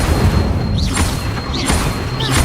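Three swooshing fire bursts from the Incendio spell in Hogwarts Legacy, evenly spaced about every second, each a rising whoosh over a dense rumbling game bed.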